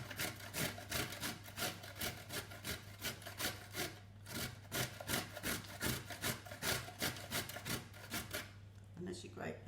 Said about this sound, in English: grate the sweet potato. And we're going to grate the carrots as well